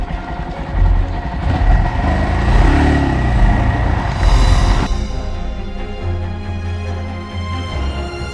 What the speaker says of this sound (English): Listen to that motor come to life.